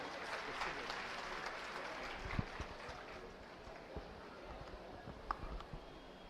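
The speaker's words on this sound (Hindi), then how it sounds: "आइए जोरदार तालियों से स्वागत करें।" An audience claps at a school building inauguration ceremony with Delhi government officials, a sustained patter of applause from a crowd, moderately loud and fading slightly over several seconds.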